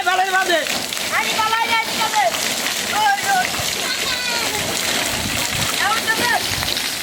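Water splashing as it is poured over people in a homemade pool on a hot day, loud bursts of splatter mixed with lively voices talking and calling out throughout.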